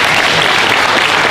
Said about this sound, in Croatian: Velikim aplauzom pozdravite članove izvorne pjevačke grupe Zavičaj Sokolac